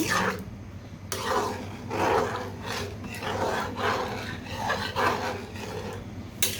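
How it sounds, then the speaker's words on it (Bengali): Rhythmic scraping and rubbing of a spoon stirring thick lentils for haleem in a pan, repeated strokes at a steady pace, up close. "এখন একটু ভালো করে নেড়ে নিচ্ছি"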